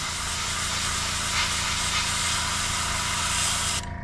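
Spray paint hisses continuously over a stencil at close range, a steady airy rush that stops abruptly just before the end.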